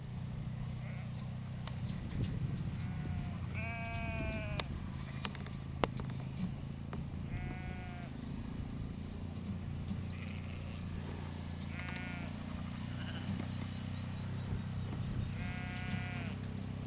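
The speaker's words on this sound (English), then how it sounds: "And all little lambs there." Sheep and lambs bleat in a hillside field in the Yorkshire Dales, with four clear, wavering calls spaced a few seconds apart over steady low wind rumble and faint background noise.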